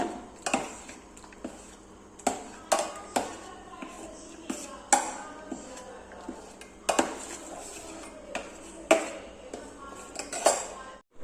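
A spoon stirring milk and fenugreek porridge in a metal pot, repeated clinks and scrapes against the rim in an uneven rhythm, close and fairly clear.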